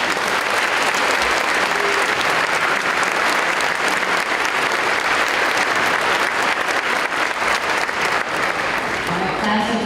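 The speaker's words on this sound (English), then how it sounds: "Let's give them one more round of applause." Audience at a high school graduation ceremony applauding loudly and continuously, a dense wash of clapping hands that fills the room for the whole stretch with no pauses.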